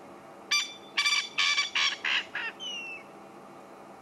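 A bird calls at sunset on an African safari in the Sabi Sand reserve, giving a rhythmic series of six loud, harsh, squawking notes, followed by fainter whistled calls.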